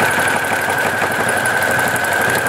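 A sewing machine runs a zigzag stitch over a clothes line trivet, giving a steady close mechanical whir with a fast, even needle rhythm and a constant hum throughout, without talk.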